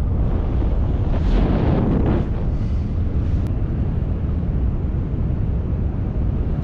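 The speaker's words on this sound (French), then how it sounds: "il y a du vent là" Steady wind buffeting the microphone during a BASE jump in the mountains, a loud continuous rumble that swells briefly near the start and then holds level, with no talking.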